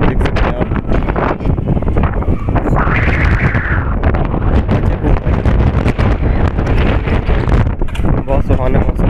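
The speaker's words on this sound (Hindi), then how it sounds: "तो यहाँ भी बहुत तेज हवा चल रही है, देख सकते हैं आप।" Strong stormy wind blows hard outdoors and buffets the microphone with a loud, continuous roar that surges and gusts throughout.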